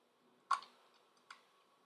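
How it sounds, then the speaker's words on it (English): Two sharp, isolated key clicks on a computer keyboard, spaced under a second apart, sound faint and close against near silence. "Typing."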